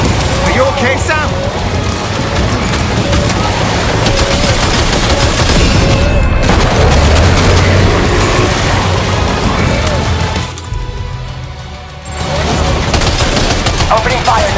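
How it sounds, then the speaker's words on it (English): Gunfire in Death Stranding 2: On The Beach rattles loud and dense almost throughout, with mechanical clatter mixed in and a short lull near the end, while voices speak over the action. "Opening fire now."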